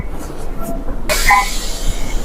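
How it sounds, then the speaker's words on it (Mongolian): A metro train runs past with a loud low rumble, joined by a sudden burst of brighter rushing noise and faint squeals partway through, heard close by. "Суусан газар метро явж байна"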